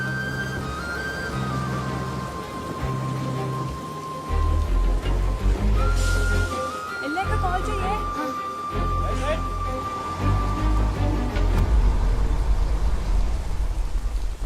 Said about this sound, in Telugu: ఇక్కడ బాగా వర్షం పడుతుంది, వినిపించట్లేదు అసలు.